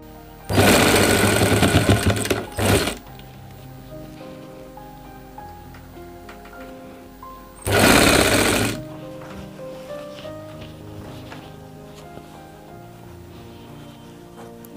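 A sewing machine stitches a kurta pajama in two loud, close bursts, a long one and then a shorter one, with quieter background music between them.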